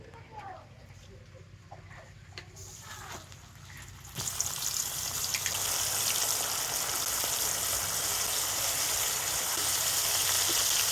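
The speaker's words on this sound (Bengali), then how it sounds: "এবার আমি এখান থেকে একটা করে মাছ নিয়ে তেলের মধ্যে দিয়ে দেব।" Batter-coated lote fish dropped into hot oil in a pan, quiet clinks at first, then a loud sudden sizzle that swells into a steady close crackling hiss.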